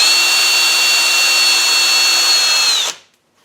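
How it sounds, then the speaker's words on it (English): A metal lathe spins a center drill into a workpiece with a steady, high whining drone that holds evenly for about three seconds, then spins down and cuts off into silence. "I got a center drill in there."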